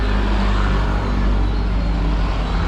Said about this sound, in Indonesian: Oh, di sini ada bus masuk ya?